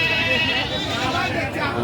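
Goats bleat in wavering cries over a busy crowd murmur at a large livestock market in Aotapara, Ishwardi, Pabna, with voices talking nearby.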